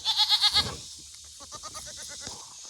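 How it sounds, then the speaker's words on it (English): Goats on a pasture being cleared from forest, bleating in a quick run of several close, loud calls followed by softer scattered bleats and rustling. "Hey goats."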